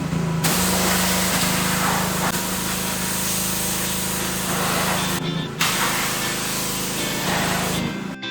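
Air blasting dirt out of Subaru Sambar parts: a loud, steady hissing rush with a tonal hum underneath, running continuously with a brief dip in the middle before resuming.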